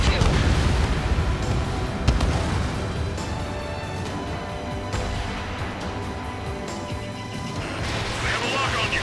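In the flight combat game Ace Combat 7, missiles launch and explode amid dense, booming battle noise. Heavy thuds and crashes land over a constant roar, and radio voices talk in the background.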